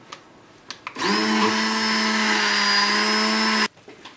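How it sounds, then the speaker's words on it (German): Immersion blender pureeing cooked strawberries for sugar-free jam, a loud, steady whirring drone that starts abruptly, runs for about two and a half seconds and cuts off sharply, with quiet handling noises before and after. "werde ich dieses noch mit dem Pürierstab kurz pürieren"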